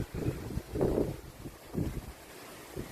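Strong wind gusts buffet outdoors at a fishing spot near Kaeng Krachan, swelling and fading in rough low bursts across the microphone.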